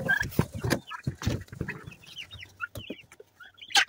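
Several chickens cluck and chatter close by in short, irregular bursts, with soft scratching and rustling between the calls.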